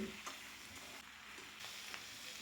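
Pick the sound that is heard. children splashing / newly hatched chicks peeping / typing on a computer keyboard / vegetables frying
vegetables frying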